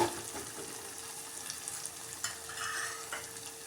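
Crushed chili-garlic thecha roasting in a pan for a chakvat leafy greens dish, a steady close sizzle with scattered scraping stir strokes and small pops, no voices.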